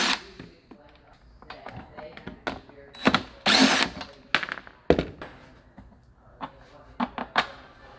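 Bolts being backed out of a Burromax mini bike with a powered driver, in short whirring bursts separated by clunks and knocks, close by, with someone talking in between.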